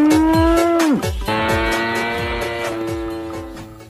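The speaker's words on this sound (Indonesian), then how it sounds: "ternyata ini sapi" A large, heavily pregnant yellow cow, freshly washed of mud, lets out a loud, drawn-out moo that bends downward and then continues in a long, close, sustained bellow.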